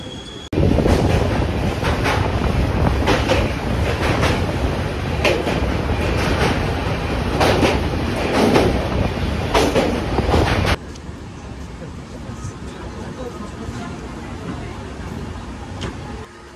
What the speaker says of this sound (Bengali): ট্রেন এলো তার দ্বিতীয় স্টেশন দক্ষিণেশ্বর